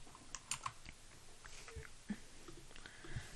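Clicks of keys on a new computer keyboard, a few sharp taps near the start and scattered softer presses after, faint and close against a quiet background.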